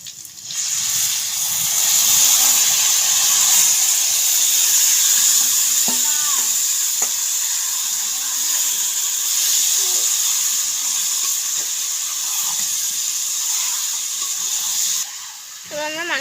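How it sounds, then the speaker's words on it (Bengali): Marinated chicken meets hot oil with whole cumin in a pan, giving a loud, steady hiss and sizzle throughout, with a few clinks and faint voices underneath before it cuts off near the end. "তো আমরা যেই মাংসটা মাখিয়ে রেখেছিলাম সেটা আমরা এবার দিয়ে দেব।"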